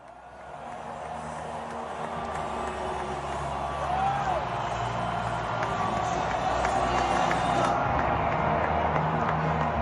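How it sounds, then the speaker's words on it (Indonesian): A stadium crowd roars steadily as a giant Iranian flag waves during the 2026 World Cup group G opener between Iran and New Zealand in the United States. The dense wash of cheering swells louder about midway through and stays high. "Sorakan meriah terdengar saat bendera Iran berkibar di tanah Amerika"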